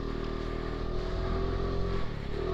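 Scooter engine droning steadily while riding, a continuous buzzing motor note that shifts slightly in pitch, close and fairly loud with no talk over it.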